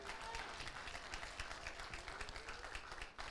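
A church congregation claps in applause, a thick continuous patter of many hands with a faint murmur of voices underneath, quiet and steady throughout.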